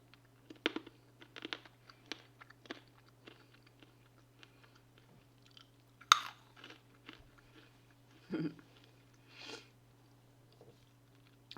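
Crunchy chewing of MRE cashews, peanuts, pretzels and almonds, heard up close: scattered crisp bites and crackling crunches with quiet gaps in between, over a low steady hum.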